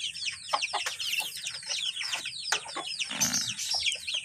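Dense, high-pitched cheeping and soft clucking from a group of young chicks, continuous and close, with a brief rustle of movement near the end.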